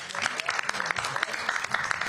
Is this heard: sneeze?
no